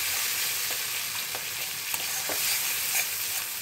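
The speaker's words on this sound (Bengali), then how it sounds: "লঙ্কার গুঁড়ো, কষায় মশলাটা" Chili powder and spice paste sauté in a pan for a Bengali stuffed patol dish, giving a dense continuous sizzle with a few soft stirring clicks, close and steady with no voices.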